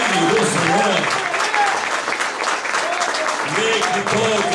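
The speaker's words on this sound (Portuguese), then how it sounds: "Então aplauda o Senhor" A church congregation claps together in a steady, fairly loud wash of applause while voices call out and sing over it throughout.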